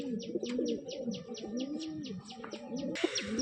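Giribaz pigeons coo in close, rhythmic bursts, the calls repeating steadily over a few seconds with light chirps layered on top.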